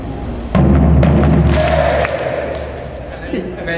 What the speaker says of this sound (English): when Ryan's going to play the bass drum, he's going to hit it twice. You're going to say, hey, and clap your hands.